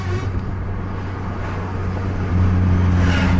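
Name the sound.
bus driving on road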